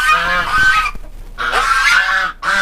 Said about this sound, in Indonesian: saya akan mengajak teman-teman untuk melihat yaitu angsa keling saya yang sekarang sudah mampu menghasilkan anak